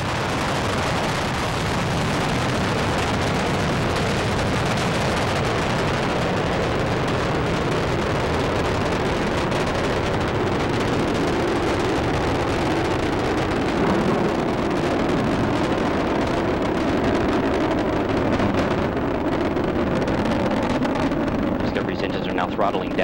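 Space Shuttle Discovery climbs toward orbit on its final flight in February 2011, a loud continuous broadband roar of rocket thunder filling the whole span while a commentator talks over it.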